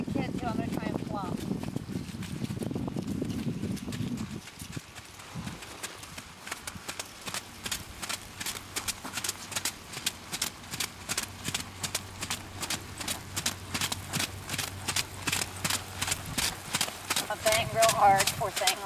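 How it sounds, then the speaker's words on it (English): A 12.2-hand Welsh pony's hooves beat in a steady, repeated clip-clop rhythm that speeds up from trot toward canter, close and fairly loud, with a rider talking at the start. "we're going to try and show walk, trot, canter as fast as we can"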